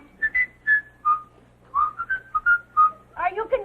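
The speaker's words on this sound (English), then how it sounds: "ask him to whistle Hail, Hail, the gang's all." A trained bird whistles "Hail, Hail, the Gang's All Here" in a run of clear, bright, tuneful notes with short gaps between them, close and loud, ending in a few rougher chirps.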